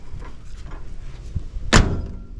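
The door of an old squarebody Chevrolet Suburban shuts with a single solid, loud thunk after quiet handling noises.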